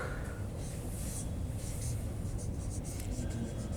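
A marker or chalk scratches steadily across a board while the name Vishwamitra is written during a lecture, a continuous dry scraping texture with no pauses.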